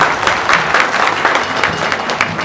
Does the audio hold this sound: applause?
yes